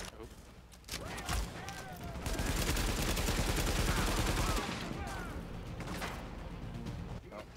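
Sustained gunfire from a shooter video game set at Grand Central Station, with bursts of shots and crashes building to a dense, loud stretch midway before easing slightly, while voices talk over it.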